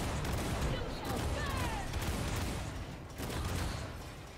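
Bombard traps firing in War for the Overworld, a dense, continuous barrage of booming blasts and crackling impacts that stays loud for the whole stretch, with a brief dip before the firing picks up again.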